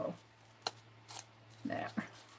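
Scissors snip through folded paper pages in a few short, crisp cuts at close range, with brief bursts spaced irregularly over a quiet background hum.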